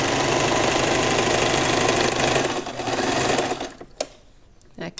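A sewing machine runs a steady, fast stitch on a crochet bag's lining for several seconds, slowing and stopping with a few short bursts and clicks near the end.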